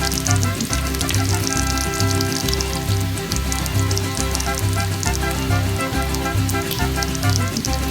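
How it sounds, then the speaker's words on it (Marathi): Marinated prawns tossed into a pan of softened, salted onions give a loud, steady, dense sizzle that runs unbroken throughout, with a low rhythmic hum underneath. "कांदा थोडा मऊ झाल्यानंतर लगेचच आपल्याला मॅरिनेट केलेली कोळंबी त्यात घालायची"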